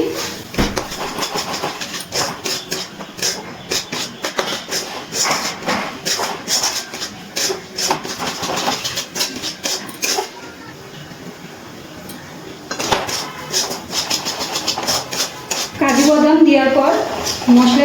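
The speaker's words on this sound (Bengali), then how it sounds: "এবার এই মশলার সাথে কাজু বাদামটাকে ভালো করে আর একটু মিশিয়ে কষিয়ে নিচ্ছি" Cashew paste and masala are stirred and fried in a pan, giving repeated scraping and clattering strokes of a utensil against metal, loud and close, with brief pauses and a sizzle near the end.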